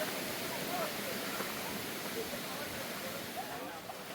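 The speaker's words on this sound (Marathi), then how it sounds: "इथून आता दुसरा धबधबा आपण शोधलेला आहे." A hidden waterfall among farm bunds at Kasarvadavli gives off a continuous, even roar of rushing water, heard from some distance without pause.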